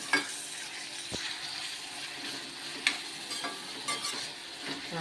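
Chicken pieces, soaked in salt water beforehand, fry in hot oil as a spoon stirs them, a steady close sizzle broken by a few sharp scraping clicks, with no voices.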